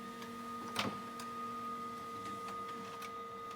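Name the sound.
printer printing a copy of a booklet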